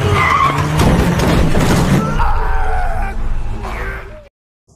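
A car skids out of control and crashes in a film scene set in a zombie-overrun Korean city, with loud broadband rumbling and screeching over roughly two seconds, then tire and engine noise trailing off before a sudden cutoff.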